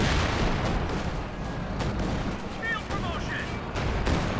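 Flak panzer gunfire in Company of Heroes 2 battle: dense, rapid bursts of autocannon and rifle fire over a constant rumble of combat, with a voice commentating over the action.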